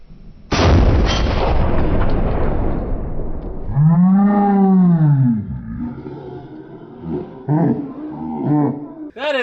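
A single huge blast from a .50 caliber gun, loud and close, cuts in sharply and rings out into a long rumbling decay, followed by excited shouting and exclamations.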